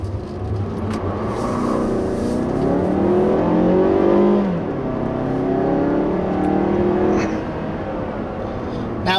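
A 2016 Mazda3 GT hatchback engine pulls steadily under acceleration, its rising and falling tones sweeping upward through gears at moderate volume, with a faint voice murmuring in the background.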